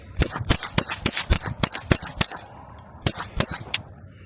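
Handgun shots at a shooting range, a quick string of about ten sharp reports followed by a brief pause and three more, close and loud with no talking.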